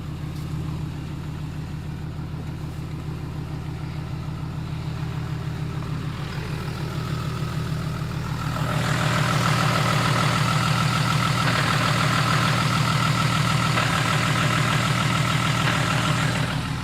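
A heavy 6.7 Cummins diesel truck engine with a dual disc clutch idles steadily with a low, throbbing rumble, then grows louder and rougher about halfway through as it keeps running.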